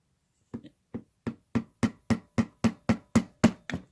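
Twelve sharp, evenly spaced metallic taps strike a part of a vintage Yale padlock, close and distinct, in a quick regular rhythm that speeds up slightly toward the end, with no talking.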